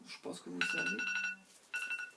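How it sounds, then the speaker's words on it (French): A phone alarm chimes in bright, repeated tonal bursts under a person's speech, sounding once, pausing briefly, then sounding again, moderately close. "C'est mon alarme, excusez-moi."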